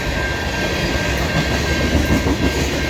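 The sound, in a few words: CN freight train M397-31 passing, Norfolk Southern SD70ACe locomotive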